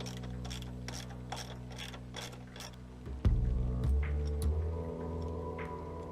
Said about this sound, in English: Pull the rectifier with these 2 10mm bolts.